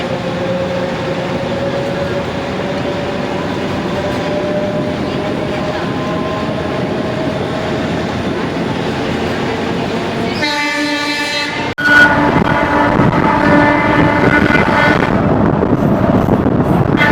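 The 76847 Vriddhachalam–Salem DEMU express is heard from onboard as a steady rumble and rattle, then a horn sounds and wheel clatter grows louder partway through.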